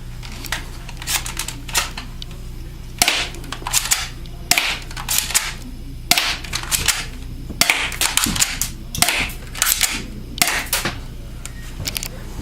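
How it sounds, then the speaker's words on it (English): A rapid series of sharp pistol gunshots, loud and close, firing in quick bursts with brief pauses, over a steady low hum and faint background music. "protect myself from the noise of the pistol going off"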